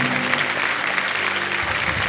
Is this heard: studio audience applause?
yes